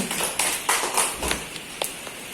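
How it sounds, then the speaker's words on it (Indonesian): Audience members clap in a thin, uneven scatter, a handful of separate sharp claps rather than a full ovation, fairly close and with no talking over them. "Tepuk tangan dong yang ikhlas ya"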